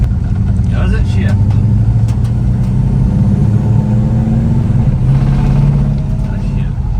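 A 1968 Dodge Dart with a newly installed transmission pulls away on a test drive, its engine droning steadily and loud with a shift change midway, while people talk over it.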